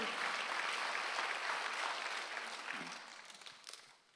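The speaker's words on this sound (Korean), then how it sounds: "박수 한번 주세요." A church congregation at a Korean Sunday worship service breaks into dense, sustained applause that fills the hall, then gradually thins and fades out.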